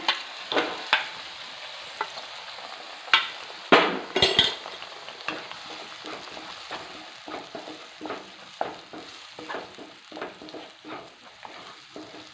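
Steady sizzling of a ground paste frying in ghee in a pan, with repeated scraping and clinks of a spoon stirring against metal throughout.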